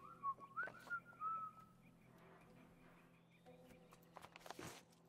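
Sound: whistling, from video game The Last of Us Part 1

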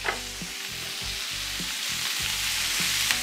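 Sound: shrimp and onion frying in oil

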